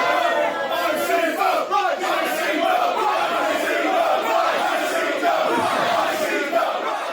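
At a wrestling event, a loud crowd cheers and chants in a continuous roar that fills the whole span.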